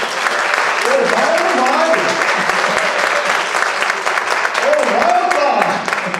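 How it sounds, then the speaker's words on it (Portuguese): A church congregation bursts into loud, sustained applause that fills the room, while a preacher keeps speaking over it. "Vamos aplaudir o Senhor."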